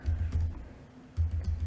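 Two short bursts of quick keystrokes on a computer keyboard, close and fairly quiet, separated by a brief gap.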